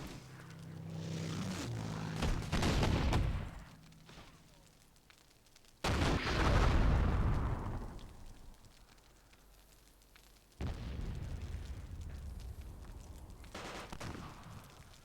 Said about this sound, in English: First shots.